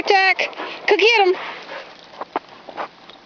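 A dog out in the snow gives a few sharp yips and whimpering barks close by, followed by softer scuffling sounds, with people talking around it.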